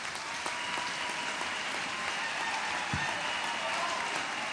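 A church congregation applauds for Jesus at a Bible camp gathering, a dense, continuous patter of many hands clapping at moderate distance without any speaking.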